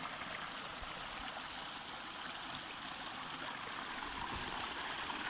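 Clean water flowing steadily in a stream over ground, a continuous rushing wash without voices.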